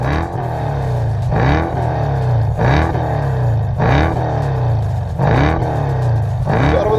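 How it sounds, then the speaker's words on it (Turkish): A loud Mercedes CL500 V8 engine revs up repeatedly over a deep rumble, climbing in pitch every second or so in a steady pulsing pattern. "Tabii V8 bir makine sesiyle de tabii insan etkiliyor."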